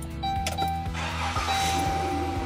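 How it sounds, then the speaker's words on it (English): A car engine cranks briefly with rhythmic starter pulses, then catches and settles into a steady idle, heard close and fairly quiet. "It asks you to please start the engine."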